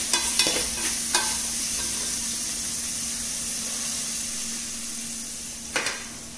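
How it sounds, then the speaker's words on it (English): Onions fry in oil for a do pyaza biryani with a steady close sizzle and hiss, broken by a few scraping spoon strokes near the start and again near the end. "So fry it until it is light brown or golden color."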